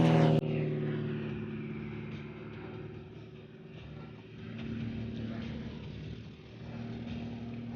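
At the Kemble airshow, light aircraft taxi in formation, their propeller engines droning steadily at moderate distance, rising and dipping in level, with a sharp knock right at the start.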